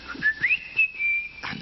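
A magic whistle plays during a storytelling concert: a high, clear tone that swoops up, then holds a long steady note, solo and close.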